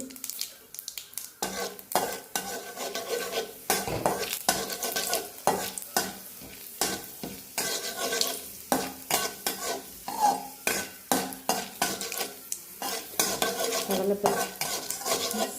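Mustard seeds and chana dal tempering in a pan, a sizzle under busy, repeated clinks and scrapes of a metal spoon stirring against the pan, close and continuous.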